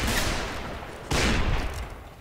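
Musket volley fire in Mount and Blade Warband, two crackling bursts of many shots close together, each with a dense, noisy decay, heard alone without talk.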